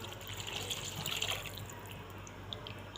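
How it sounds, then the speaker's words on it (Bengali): Water poured over small fish curry in a kadai on the stove makes a brief splashing, gurgling rush close by that fades into a light bubbling. "এখন আমি দিয়ে দিব পানি।"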